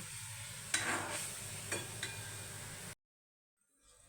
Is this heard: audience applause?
no